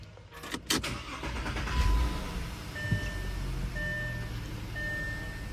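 A Volkswagen Touareg T3 with a bad radiator cranks and starts with a short burst, then settles into a steady, fairly quiet idle, with thin warning chimes beeping at regular intervals.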